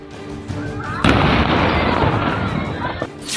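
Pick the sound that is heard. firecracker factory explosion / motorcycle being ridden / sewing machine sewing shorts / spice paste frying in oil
firecracker factory explosion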